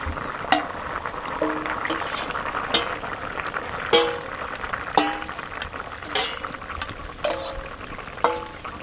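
Ground cumin paste stirred into a simmering Tengra fish curry in a pan, with a soft bubbling sizzle underneath and a spoon scraping and knocking against the pot roughly once a second.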